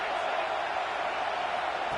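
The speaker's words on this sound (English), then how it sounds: "The crowd is roaring, trying to help this defense on 4th down." Football stadium crowd at a Texas A&M game roaring on a fourth-down defensive stand, a dense continuous wall of cheering that stays loud and steady throughout.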